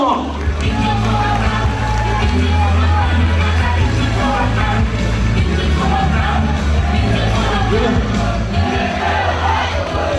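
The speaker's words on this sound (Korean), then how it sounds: "당원동지 여러분과 시민 여러분 뜨거운 격려의 박수 부탁드리겠습니다" A large crowd of party members and citizens at an outdoor political rally in Gwangju, part of a Democratic United Party presidential primary, keeps up a loud, dense applause with cheering for about ten seconds, steady throughout.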